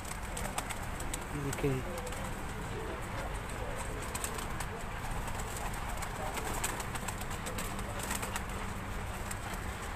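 Breeder pigeons coo in a rooftop loft, soft repeated calls rising briefly over steady background noise while someone speaks nearby.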